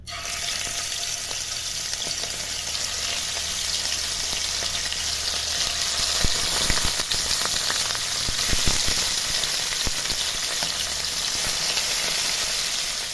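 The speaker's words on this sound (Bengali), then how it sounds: "মাছের এক পাশ ভাজা হয়ে গেছে" Fish sizzling steadily in smoking-hot mustard oil in a kadai, a dense, even crackle and hiss that runs unbroken for the whole stretch with no voices.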